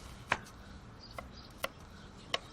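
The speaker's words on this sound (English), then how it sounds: "Ah, you have to cut the onions." A knife cuts onions on a board in a few faint, widely spaced chops, four soft clicks over a quiet room.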